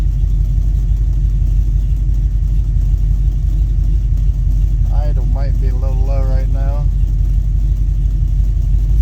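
An old Mopar engine idles low and steady with a thick rumbling pulse, while someone speaks briefly over it midway.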